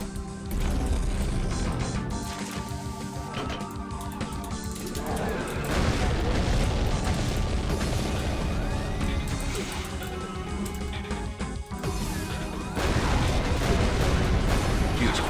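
Video game explosions from rapid-fire weapons under the Gun Bonsai mod, a dense, continuous barrage of booms and blasts layered over one another with no let-up, heavy and loud throughout.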